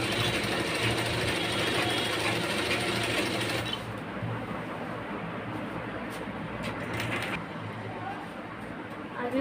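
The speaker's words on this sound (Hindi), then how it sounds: "अब हम इसको मिलाकर सिल रहे हैं।" A sewing machine stitches petticoat panels together in a steady, loud mechanical run that eases slightly partway through, continuing for about nine seconds with no speech.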